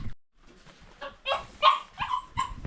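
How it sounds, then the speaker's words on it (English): A dog barks and yips inside a house in Nairobi, a run of several sharp close barks in quick uneven succession, with a few whiny yelps mixed in. "I miss my puppy and I think they're inside the house"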